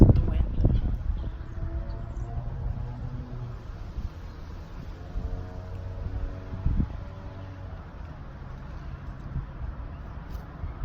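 Outdoor wind buffeting a microphone, producing low rumbling gusts and noise under a woman's speech, strongest in the first second and swelling again in places.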